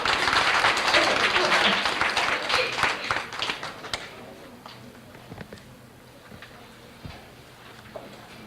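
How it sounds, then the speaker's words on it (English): A crowd at a school student recognition event applauds loudly with dense clapping, which thins into scattered claps and dies away over several seconds. "we'll give him just a stomp and cheering round of applause"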